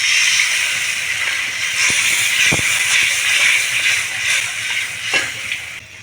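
Water poured into fried masala in a pan sets off a loud, steady hissing sizzle and steam rush that runs for several seconds, with a few faint knocks.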